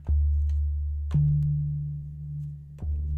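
Soft mellow synth keys from a SynthMaster patch with Tone Boosters reverb, three sustained notes struck about a second apart and left ringing into a smooth reverb tail, played alone.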